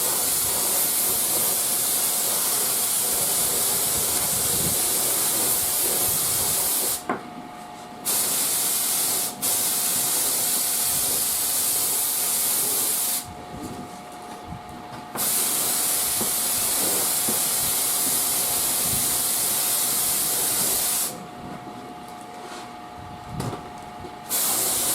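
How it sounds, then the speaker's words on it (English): Lacquer is sprayed onto a Zenith Boomerang radio cabinet in loud, steady hissing bursts several seconds long, broken by a few short pauses, with no talking. "we're going to go ahead and put the lacquer on it."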